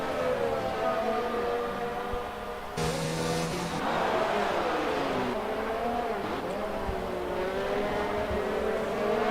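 Formula 1 cars racing in the F1 2019 video game at the Brazilian Grand Prix, a Renault passing a Racing Point: loud continuous high-pitched engine whine with shifting pitch as cars pass, steady throughout.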